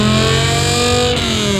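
A V10-swapped BMW E46 M3 engine revs loud and close, a dense harmonic roar that holds steady and then dips slightly as the revs ease off.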